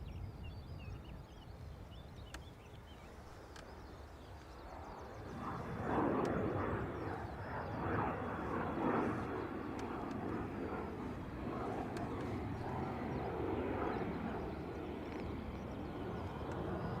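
A Ryanair airliner arriving from Pisa at Dublin Airport gives a broad, steady jet roar that swells around the middle and holds at moderate distance, with faint radio chatter underneath.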